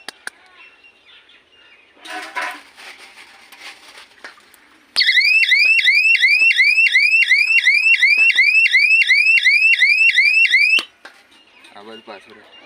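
An electronic crop-protection alarm machine for scaring blue bulls and wild boar from fields sounds a loud, rapidly repeating warbling siren for about six seconds, with people talking before and after it.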